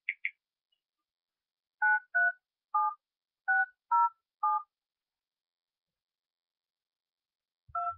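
Touch-tone phone keypad beeps as a number is dialed: one short pair, then six quick evenly spaced tones, and after a pause one last tone with a low thump, all clean against silence.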